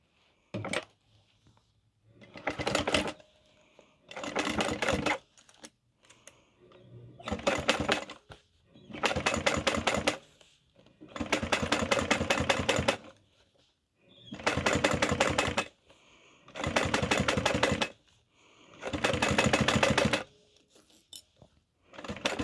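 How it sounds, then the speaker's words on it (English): A sewing machine topstitches across the zipper of a crossbody bag in about eight loud, rapid bursts of stitching, each a couple of seconds long and separated by short quiet pauses. "now we're going to top stitch, and we are going all the way across."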